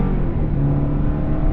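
A 2023 Chevrolet Colorado Trail Boss pickup accelerates hard from a standstill, its turbocharged engine giving a loud, steady low drone heard from inside the cab.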